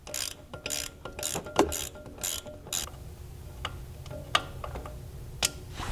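A ratchet loosening the rear brake caliper bolts on a 2015-2023 Porsche Macan S during a brake pad replacement, giving quick ratcheting clicks and ticks up close, then sparser metallic taps and clinks, with no talk.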